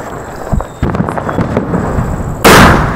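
Diwali firecrackers burst outdoors: a few scattered pops and crackles early on, then a loud sharp blast near the end, with no voices.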